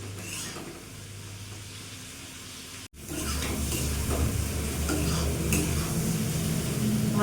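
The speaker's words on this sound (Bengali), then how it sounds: "মিডিয়াম আছে আমি ভালো করে কষিয়ে নেব।" Rohu fish and spices being sautéed in a pan over a medium gas flame, a continuous soft sizzle with scraping stirs, briefly cut off midway and then louder and denser, with no talking.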